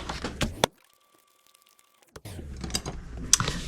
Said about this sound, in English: now fold and burnish your score lines